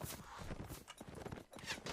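Horse hooves clip-clop in rapid galloping rhythm in the Mount and Blade Warband battle game, set among the noise of a large line battle with a brief neigh and clatter throughout, fairly loud and continuous.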